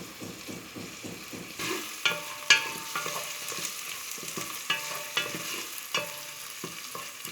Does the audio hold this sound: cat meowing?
no